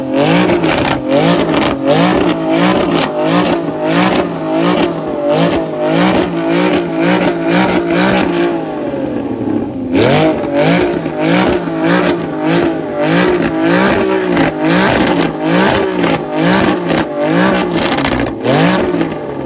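A Porsche 981 Cayman S with a split exhaust, still fitted with catalytic converters and running no tune, revs repeatedly in loud, sharp bursts, each rising and then falling off. The pops and crackles come close up, with no talking.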